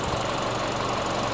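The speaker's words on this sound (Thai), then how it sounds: "นี่คือเสียงของเครื่องยนต์นะครับ" A 2019 Toyota Camry 2.5G engine idles with a steady, even drone and a faint rhythmic ticking, heard close and continuously with no voices.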